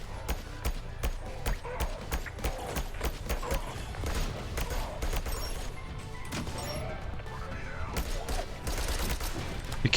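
Rapid bursts of gunfire in the video game Sentry crackle repeatedly over a busy, cluttered soundscape, with sharp shots scattered throughout and occasional voices underneath.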